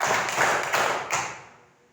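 Classroom hands clapping in a counting game, a few sharp claps close together followed by a fading ring of the room, no talk.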